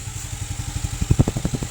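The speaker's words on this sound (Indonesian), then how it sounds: "Nih, motor hidup." A Yamaha Freego scooter engine, just started after an ECU fault, runs close by in a rapid, even putter that grows slightly louder and rougher toward the end.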